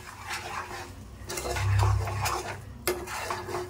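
Semolina and sugar are stirred together in a metal pan for kesari, with repeated close scraping strokes of a spoon against the pan and a low steady background hum.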